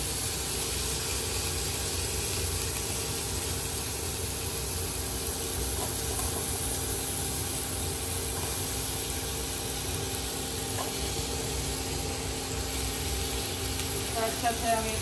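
Gourd peels frying in hot mustard oil, a steady broadband sizzle and hiss that runs evenly throughout at close range, with no talk over it.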